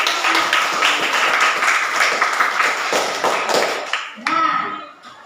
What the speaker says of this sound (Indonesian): sekretaris, silakan berikan aplaus